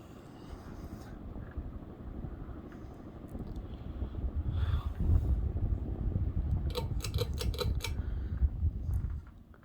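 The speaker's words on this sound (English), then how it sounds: "the video on this 52-inch antique brass Barcelona brand ceiling fan from the mid-1980s" A mid-1980s 52-inch antique brass Barcelona hugger ceiling fan runs with a steady low hum and airy whoosh that swells partway through, with a few faint clicks near the end.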